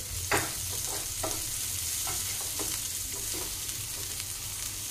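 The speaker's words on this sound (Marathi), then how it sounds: "मी इथे 2 छोटे कांदे असे बारीक कट करून घेतले, ते सुद्धा आपल्याला छान तेलामध्ये परतून घ्यायचे" Two small finely chopped onions frying in oil for a cashew masala curry, a constant close sizzle broken by repeated scraping strokes of a spoon stirring the pan.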